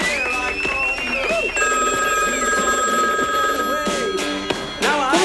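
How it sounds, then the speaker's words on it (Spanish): A telephone rings with a sustained electronic tone, then rings again later, while voices and background chatter carry on underneath. "suena el teléfono insistentemente"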